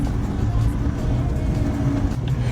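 A Yugo car labours up a steep hill, its engine droning loud and steady at high revs throughout, a continuous low rumble with no break.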